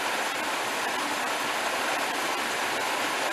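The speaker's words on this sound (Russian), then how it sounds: "ручей в Хедден парке." A stream in Hedden Park, New Jersey, rushing as a dense, steady broadband wash of flowing water, constant and close with no pauses or voices.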